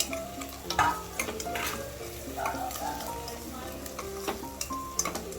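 Onions and capsicum sauté in a pan for paneer butter masala, giving a close, steady sizzle broken by irregular clinks and scrapes of a spoon against the pan.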